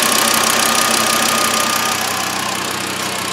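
A 2013 Volkswagen Jetta engine with a failing cam sensor runs steadily at idle, a loud, continuous close-up drone with a faint knocking texture, alone without talk.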